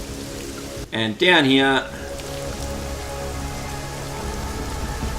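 Rain falling in the game Deus Ex: Mankind Divided, a soft steady patter that runs throughout, briefly covered near the start by a short stretch of talk.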